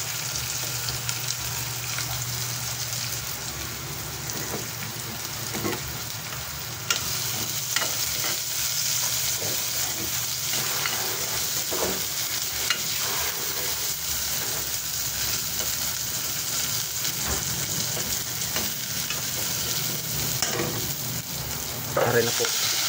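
Onions frying in a pot, a steady loud sizzle running throughout with the scrape and clatter of stirring mixed in, up close and without talk.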